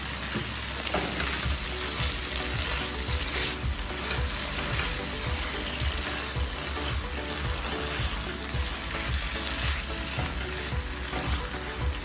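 Cubes of paneer are stirred into a red stuffing frying in a pan for a paneer frankie roll, with a loud dense sizzle and repeated spatula scrapes throughout, no voices.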